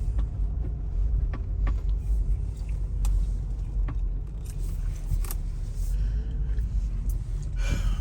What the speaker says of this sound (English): I'm gonna park this car right here.